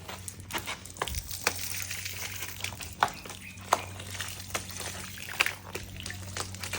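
Outdoor water trickles and splashes steadily, with a few sharper drips and sloshes breaking through a constant low background hum.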